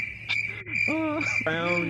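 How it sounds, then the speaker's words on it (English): Crickets chirping indoors in a steady, high-pitched, continuous trill, with intermittent bird-like whistling sweeps layered over it. "Oh, we got crickets in here."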